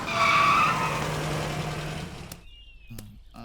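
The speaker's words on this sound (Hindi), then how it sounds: "ए गाड़ी रोको।" A car skids to a stop on a road, a loud tire screech that fades out over about two seconds, followed by quiet with a couple of faint clicks and thumps.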